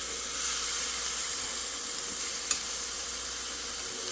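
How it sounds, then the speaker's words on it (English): Meat sizzles on a Chefman Accugrill smokeless indoor grill, a steady, fairly quiet hiss of frying fat with one brief sharp pop partway through. "Sound of sizzling meat."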